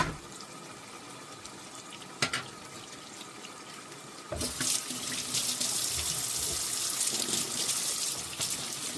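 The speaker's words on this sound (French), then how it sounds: "Je me lave les mains." A tap runs as hands are washed: a faint trickle at first, then a sudden louder, steady gush of water into a sink that continues to the end.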